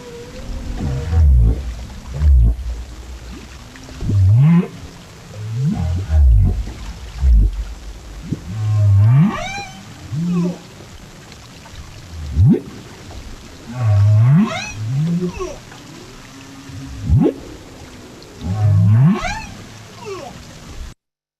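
Recorded humpback-style whale song from a breeding display, loud and clear, with repeated low moans and rising whoops in a slow rhythmic pattern, each phrase lasting a couple of seconds with short pauses between.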